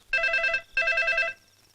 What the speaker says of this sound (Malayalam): നിങ്ങളാ ഫോൺ എടുക്ക്